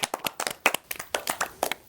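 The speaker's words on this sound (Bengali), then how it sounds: "জোরে হাততালি হয়ে যাক সবাই" A small audience claps hands in a quick, uneven burst of sharp, close claps lasting a couple of seconds, with no talking.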